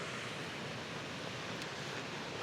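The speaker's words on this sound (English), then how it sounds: "There you go, Rock Creek, flowing very strongly." Rock Creek rushing and flowing strongly, a dense steady roar of water with no breaks, loud and close, with a slight wind rush over it.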